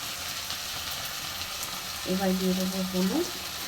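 Mustard, chilli, garlic and cumin paste hits hot oil with onions in a pan for a fish jhal, a steady loud sizzle and crackle; a voice is heard briefly partway through.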